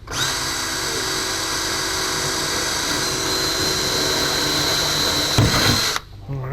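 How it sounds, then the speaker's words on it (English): A power drill runs steadily for about six seconds, boring holes to 3/16 inch during a Jabiru aircraft engine installation, with a high whine held throughout before it stops abruptly. "Go ahead and drill these two out to 3/16"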